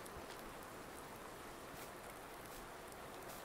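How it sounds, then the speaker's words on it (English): Steady, soft video game rain hiss in Farming Simulator 19 with a dense patter of drops, even and continuous throughout, with no voices. "a little bit of rain going on"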